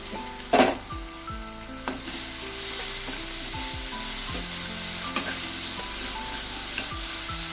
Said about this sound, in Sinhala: කලවම් කරලා දැන් මේ මිශ්‍රණය හැම්බෙන්න දෙන්න